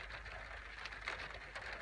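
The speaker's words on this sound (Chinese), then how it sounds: "大家听听这个雨声" Rain falling in Bagua City after a night-long downpour gives a faint, even patter and hiss that runs steadily throughout, with no voices.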